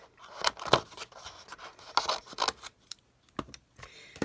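Scissors snip through craft material for a junk journal in a few short, crisp cuts heard close up, with quiet rustling between them.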